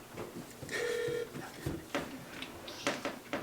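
A FaceTime video call rings out with a short electronic tone burst, mixed with a few scattered clicks and knocks, in a podcast setting.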